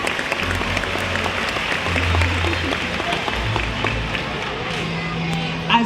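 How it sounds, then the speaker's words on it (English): A large crowd applauds the killer whales at a SeaWorld San Antonio orca show, giving steady dense clapping throughout, with a voice over the public address system briefly audible underneath. "let's give a round of applause today for all the whales and for all of you"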